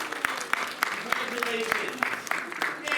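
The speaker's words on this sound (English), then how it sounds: "Give yourselves a great big round of applause." A small group of drawing class graduates at Disney California Adventure's Animation Academy claps for themselves, a sparse scattering of distinct claps in a loose rhythm, fairly faint, with a voice talking over them.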